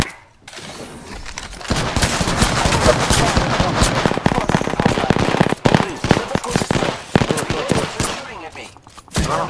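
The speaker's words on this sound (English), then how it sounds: "Opening fire." Rapid automatic gunfire in the Apex Legends video game, dense sustained bursts that run almost continuously and loud throughout, with brief pauses, and voices faintly mixed in.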